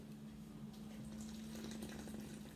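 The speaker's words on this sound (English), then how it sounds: "I'm going to fill the cup up to the top with the hot water. So if you just pour it in bit by bit." Hot water pours steadily from a kettle into a cup, a continuous close trickling and splashing with a faint tonal hum underneath, no talking.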